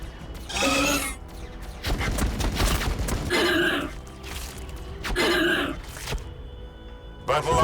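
Gunfire at Hormagaunts in Warhammer 40,000: Battlesector comes as repeated bursts of crackling shots alternating with rumbling impacts, fairly loud and steady, with a voice cutting in between bursts.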